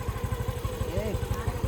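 A Kawasaki Rouser 135 motorcycle idles close by after repair, its engine thumping in a steady, even rhythm while people talk over it.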